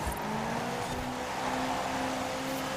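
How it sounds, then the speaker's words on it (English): A strained Honda engine in a double cab truck races in Forza Horizon 4, a loud steady drone that holds a high pitch throughout with a few stepped shifts. "I hear the sound of the double cab, the cry of a tortured Honda engine"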